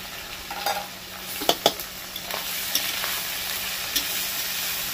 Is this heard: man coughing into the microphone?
no